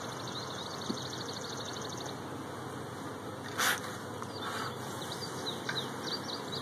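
Honey bees buzz around an open hive during a beekeeping inspection of brood frames: a steady, close, continuous drone with faint bird chirps in the background and a brief louder swell partway through.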